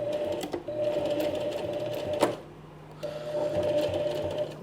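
A sewing machine stitches a small fabric coin purse in two fast whirring runs separated by a brief pause, close and steady, with a click or two between bursts.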